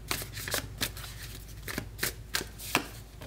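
Tarot cards riffle and snap in repeated quick bursts as a deck is shuffled and cards are drawn, close and fairly soft, with no one talking.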